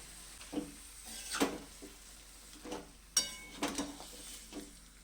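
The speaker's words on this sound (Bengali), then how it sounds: "500 খাসির মাংস যেটা ধুয়ে রেখেছিলাম এখন আমি দিয়ে দিচ্ছি। দিয়ে এবার 4 থেকে 5 মিনিট মতন এটাকে কষে নেব মাংসটাকে।" Washed mutton sautéed in a kadai, a quiet sizzle under a few separate scraping stirs of a spatula against the pan, each scrape short and close.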